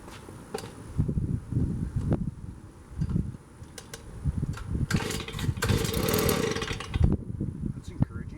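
A Stihl BG65 leaf blower with an empty carburetor is pull-started close by: repeated short, rough bursts give way to a louder sputtering run midway, then fade back to uneven bursts.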